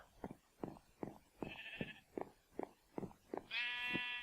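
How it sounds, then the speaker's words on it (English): Sheep on a Minecraft sheep farm give a quick run of short, evenly spaced bleats, ending in a longer, brighter bleat. The sounds are clear and close, with no talking. "have a sheep farm."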